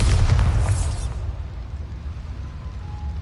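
A Bombarda spell blast in Hogwarts Legacy inside a small mine: a loud, full boom at the start that decays into a low, rumbling tail over the following seconds.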